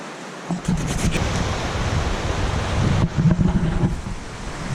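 A small mountain creek rushes steadily close by, a dense broadband wash of flowing water that continues without pause throughout.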